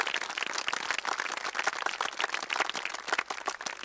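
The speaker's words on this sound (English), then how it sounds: "Let's give them a round of applause." Sustained, dense applause from a large graduation ceremony audience at Parkersburg High School, West Virginia, honoring staff members; steady clapping fills the space without pause, fairly loud and even throughout.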